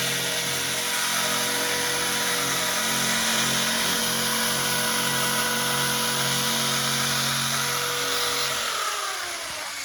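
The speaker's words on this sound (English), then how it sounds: "We're back on sanding again." A Harbor Freight Bauer drum sander grinds across a car's body surface, a loud continuous high whine with steady droning tones that holds for nearly ten seconds, then the pitch begins to drop as it starts winding down.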